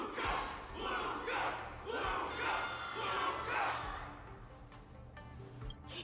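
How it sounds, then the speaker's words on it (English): A game crowd roars and cheers in rhythmic swelling waves, loud and close, with shouted battle-cry voices in the Honkai: Star Rail Wardance event, easing off near the end. "Everyone's cheering for you,"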